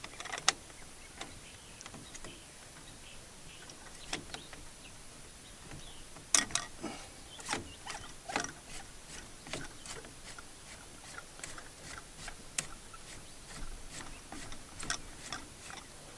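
Faint metallic ticks and clicks from threaded couplers being screwed onto a copper pool electrode chamber, an irregular series of small sharp taps over a quiet background.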